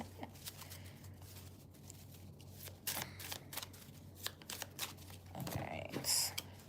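Tarot cards being shuffled by hand in a quiet room: soft riffling, flicks and taps come in uneven bursts, close and fairly faint.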